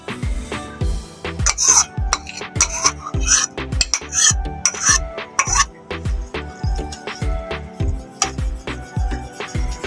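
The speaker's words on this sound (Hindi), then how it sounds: "ये हमने 2 टोमेटो लिए हैं, इसको हमने अच्छी तरीके से चॉप कर लिया है, वो हम इसे डाल देंगे" Chopped tomatoes are tipped and scraped into a bowl of spicy chaat, giving a rapid, uneven series of close metallic clinks, scrapes and soft plops with no voices.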